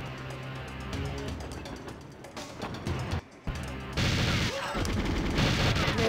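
Rapid gunfire in GoldenEye on the Nintendo Switch, played in agent mode against computer opponents. Dense, continuous bursts of shots fill the scene, briefly break off once, then return louder and busier.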